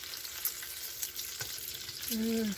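Bacon sizzles steadily in a hot pot, a constant bright frying hiss with a couple of faint clinks and a short tonal squeak near the end, no talking.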